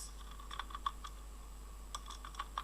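Light, irregular clicks of keys on a computer keyboard come in quick bursts with short pauses between, close and fairly quiet over a faint steady hum.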